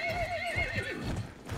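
A horse in the video game Battlefield 1 whinnies loudly, then its hooves clip-clop in a quick galloping rhythm, close by with no talking.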